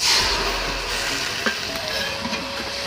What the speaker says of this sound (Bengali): আর আদা রসুনের জল এখন দিয়ে দিচ্ছি